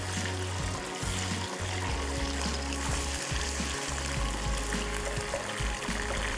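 Garlic ginger paste frying in a pan, a steady close sizzle and crackle with no talking over it.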